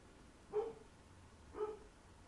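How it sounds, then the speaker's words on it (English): A dog barks twice, spaced about a second apart, each bark fairly clear but not close, with quiet room tone between and no talking. "my dog is freaking out"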